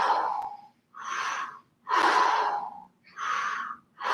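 A person does a breathing exercise, drawing the stomach in and out. Four slow, audible breaths are heard close up, each a soft airy exhale or inhale, separated by short pauses.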